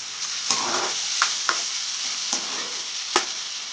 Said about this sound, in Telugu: బాగా మగ్గినంత వరకు ఇవన్నీ వేపుకోవాలి